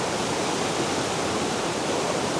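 A river flows past the bank, a loud, constant rushing of water close by with no voices.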